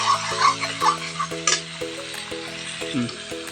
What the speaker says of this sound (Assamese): এয়া মাংস ভাজি আছোঁ,